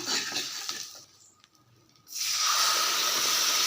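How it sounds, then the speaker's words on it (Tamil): Ground masala paste for paneer butter masala poured into hot melted butter, bursting into a loud, steady hissing sizzle after a brief quieter moment, close and continuous with no talking. "இப்போ அரைச்சி வச்ச பேஸ்ட்டை இதில் ஊற்றிக்குவோம்"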